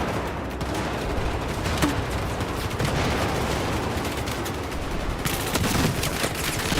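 Dense, continuous gunfire from a Battlefield video game match: overlapping machine-gun bursts and rifle shots rattle without pause, some close and sharp, others more distant, with no talk over it.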